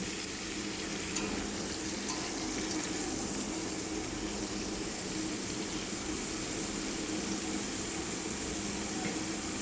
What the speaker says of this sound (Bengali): এখানে আমি আলু আর কুমড়ো ডুমো ডুমো করে কেটেছি এটাকে দিয়ে দেবো তেলের মধ্যে